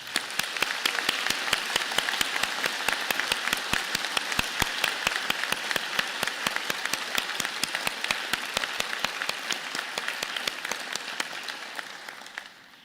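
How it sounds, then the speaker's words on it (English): A graduation convocation audience gives a vigorous round of applause, a broad steady roar of many hands with sharp individual claps standing out, sustained for over ten seconds before tapering off. "join me and the platform party in thanking them with a vigorous round of applause"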